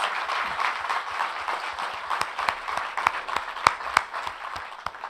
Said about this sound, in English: I want you all to join me in giving our panelists a warm applause and thanks